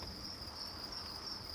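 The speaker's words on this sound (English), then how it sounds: "Lots of crickets out and active." Constant high-pitched chirping of farmed crickets in a breeding bin, a dense continuous trill at low volume with no other sounds.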